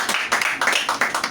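A church congregation claps for the Lord in steady, rhythmic bursts, bright hand claps repeating roughly every third of a second with no voices on top.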